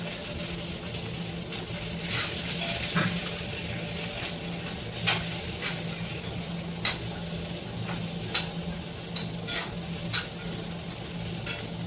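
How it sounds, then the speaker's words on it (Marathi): Onions frying in oil in a pan over a high gas flame, with a steady broad sizzle running throughout and repeated sharp scrapes and clinks of stirring at irregular intervals, close and fairly loud, no talking. "आता मी याच्यामध्ये कांदा टाकते. कांदा छान लाल होईपर्यंत चांगला परतून घेणार."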